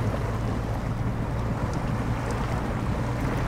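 Off-road truck in SnowRunner pulling away in low gear through Michigan terrain, a steady low engine drone with a constant rumbling hum and broadband noise, continuous and fairly loud with no talk.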